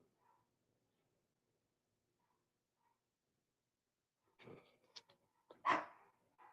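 A dog barks in a few short, sharp bursts close by in a home, after a stretch of near silence.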